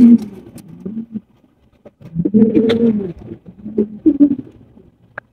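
Low, throaty coos from large stretcher pigeons close by, several rolling calls with short pauses between them, no talking.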